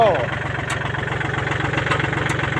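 A Kubota L1-22 four-wheel-drive tractor runs close by with its engine putting out a steady, rhythmic low-pitched chugging throughout, loud and continuous.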